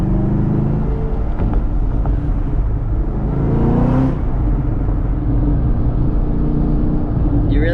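A 2019 Chevrolet Camaro ZL1 1LE accelerates from inside the cabin, its engine rising in a loud rumbling whir with a brief revving climb partway through, steady and close throughout.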